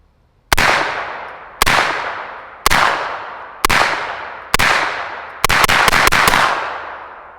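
A suppressed GHM9 pistol firing 115 grain Monarch ammunition, five evenly spaced sharp, loud reports followed by a quicker burst of several shots, each with a decaying ring-out.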